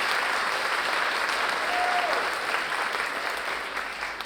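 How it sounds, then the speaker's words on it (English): Sustained applause from a large audience for faculty and staff at a nursing pinning ceremony, dense and even clapping that fades slightly toward the end. "please give them a big round of applause"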